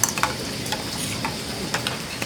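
Water with rose petals boils in a pot for tea, a constant bubbling hiss broken by scattered little pops and ticks.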